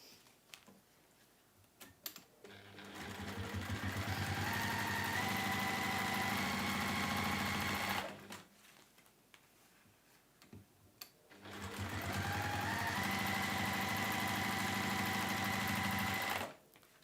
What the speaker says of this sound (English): What we're going to do here now is stitch these down.